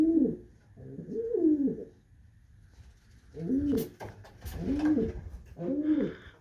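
A pigeon in a new loft gives repeated throaty coos, first two phrases, then a pause, then three more. The calls are near and clear, with a few faint clicks and rustles between them.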